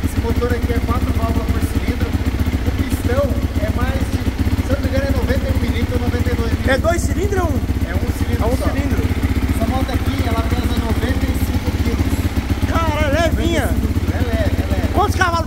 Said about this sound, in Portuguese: você vai ver um giro dessa moto